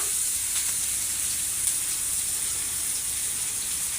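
Snakehead fish heads hit a hot pan already holding chili, onion, garlic and cumin, giving a steady, bright hiss that sizzles on without pause.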